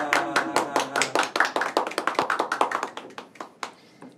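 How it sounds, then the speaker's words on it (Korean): Hand claps from a Korean finance talk show host in a studio: about twenty sharp, close claps in a quick steady rhythm, slowing and softening toward the end, with no voices. "안 치던 박수를 치고 그래요"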